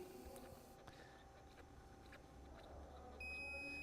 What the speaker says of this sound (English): I'm going to wait for it to beep.